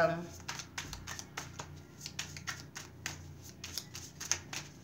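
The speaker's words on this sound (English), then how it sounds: "I'm just going to start shuffling the cards for this week." Quick, crisp riffling of tarot cards being shuffled close up, a steady series of soft papery bursts with light hand sounds between them.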